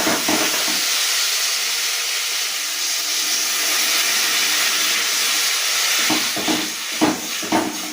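Water is poured into hot oil holding fried potatoes and spices, erupting in a loud, continuous steaming hiss and sizzle that holds steady, then breaks into sputtering crackles toward the end.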